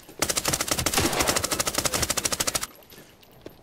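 An M60 machine gun in Arena Breakout Infinite fires a loud, close, sustained burst of rapid rounds for a couple of seconds, then cuts off into quiet room tone.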